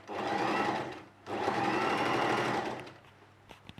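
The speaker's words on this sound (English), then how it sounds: "we try to sew as close to the edge of the hem as we can" Sewing machine running a narrow hem along the edge of a long dress, two sustained loud bursts of fast stitching separated by a brief pause, then slowing to a few scattered clicks at the end.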